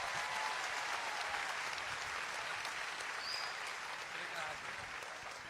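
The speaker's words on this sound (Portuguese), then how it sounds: "Vamos recebê-lo com aplauso." An audience at a church service applauds to welcome Pastor Cláudio Duarte, a broad steady wash of clapping that runs evenly and tapers slightly near the end, with faint voices mixed in.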